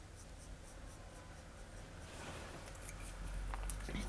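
Charlotte Tilbury Brow Lift pencil stroked across eyebrows in a taupe shade, a quiet close-up scratchy scraping that continues steadily and grows slightly louder toward the end, with no talking.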